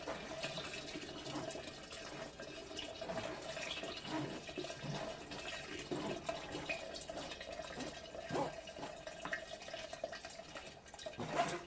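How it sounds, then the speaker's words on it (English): Cold water pours steadily into a beer brew from a Coopers Pale Ale kit, NEIPA style, a continuous splashing, gurgling flow with small drips, fairly close and constant throughout, with no talk. "I'm just going to pour some cold through that."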